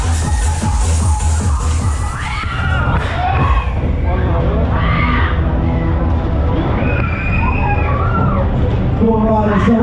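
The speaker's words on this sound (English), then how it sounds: "I want you to scream if you want to go faster." Riders on a Waltzer fairground ride at a fireworks night in Kendal scream and shout in a loud, dense crowd din, with an announcer's amplified voice talking over the continuous roar of the ride.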